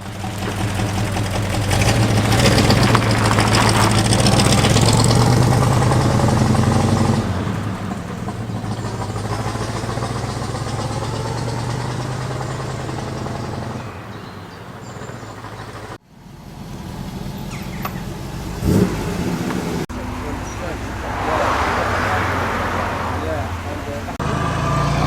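A 1931 Buick's engine runs steadily on the way to a breakfast car meet at Combermere Abbey, a loud, continuous low drone that eases to a quieter hum partway through, with a brief thump and some voices over it.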